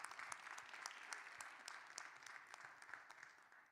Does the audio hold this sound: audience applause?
yes